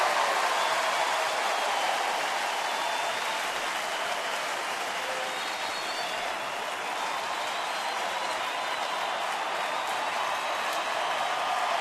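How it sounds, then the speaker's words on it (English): A baseball stadium crowd roars in a sustained, dense wash of cheering noise at a Kansas City at Detroit game with two strikes on the batter, steady and loud throughout with no pauses. "The crowd is roaring now with 2 strikes on Francoeur."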